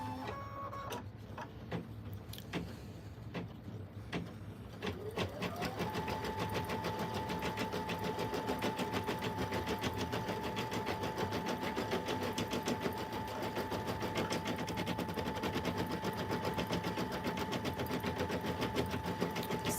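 An embroidery machine stitching directly onto stabilizer runs in a fast, even mechanical chatter, starting with a few uneven bursts before settling into a steady high-pitched whir that continues without voices.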